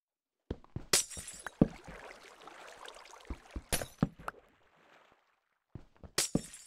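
Glass blocks shattering in the video game Craftverse: several sharp, bright breaks scattered across the stretch, each followed by tinkling debris, with near-silent gaps between bursts.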